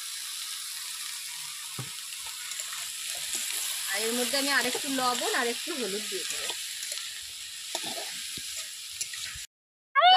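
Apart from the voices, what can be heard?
eggplant and onion frying in a pan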